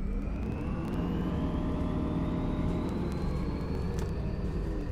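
A Heuliez GX327 bus engine runs in the OMSI 2 bus simulator with a low, steady diesel drone. A thin whine slowly climbs in pitch over the rumble, with no voices.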